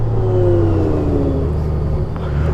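A Honda 1800 DCT motorcycle brakes from speed, its engine humming loud and close as the pitch sinks gradually while the bike slows.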